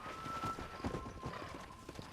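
A video game horse in Red Dead Redemption 2 whinnies while hooves clip-clop in a steady rhythm, fairly close, with a faint background tone.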